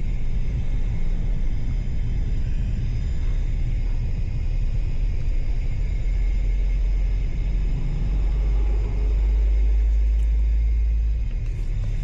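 A large truck on a busy coastal road in Cavite rumbles low and steady nearby, heard from inside a moving car, with continuous road and engine noise throughout.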